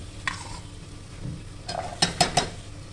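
Vegetables fry in a pan for vegetable pulao with a low, steady sizzle. A spoon scrapes and stirs through them, and several sharp clinks against the pan stand out near the end.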